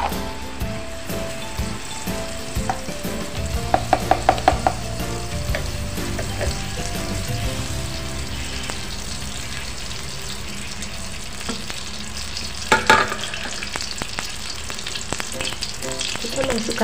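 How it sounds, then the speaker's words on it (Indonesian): Spice paste for Balinese betutu chicken sizzles and fries steadily in hot oil, with a spoon clinking and scraping the pan now and then, close and continuous. "Kita akan tumis bumbunya biar harum"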